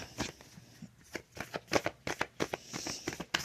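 Tarot cards are shuffled by hand in quick, irregular riffles and soft flutters, close and fairly quiet, without speech.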